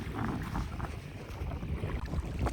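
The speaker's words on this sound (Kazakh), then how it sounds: "Мына қайық ұшып келатыр ғой." A boat races across open water on a fishing outing, its steady rushing roar mixed with constant wind buffeting the microphone, loud and close with no voices.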